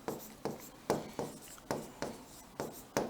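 Chalk or marker writing on a board in a classroom lesson, giving a steady run of about eight short scratching strokes in an even rhythm, close and fairly quiet.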